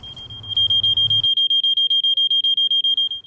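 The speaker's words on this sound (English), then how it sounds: "It's a portable smoke detector, and it's wonderful because it's a very bright light to alert people." A portable smoke detector sounds its alarm, a piercing high beep pulsing in quick, even repetitions, loud and close, with brief rumbling handling noise at the start.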